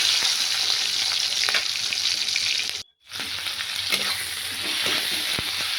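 Onion and bay leaf frying and stirred in hot oil for a Bengali mixed vegetable curry of barbati beans, pointed gourd, eggplant and bori, a steady close sizzle with stirring scrapes, cutting out briefly midway before resuming.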